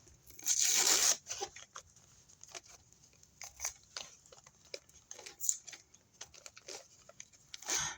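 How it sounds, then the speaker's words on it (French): Paper lightly torn by hand for a mixed-media canvas, one longer close rip followed by several short, faint tearing and crinkling bursts in a quiet room. "Là, pareil, on va légèrement déchirer."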